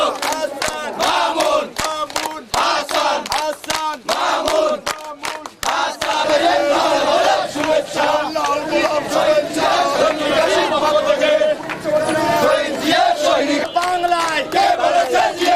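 A political procession crowd chants slogans in unison at a Bangladesh Nationalist volunteer party anniversary rally in Patuakhali, loud, rhythmic, many voices filling the clip continuously.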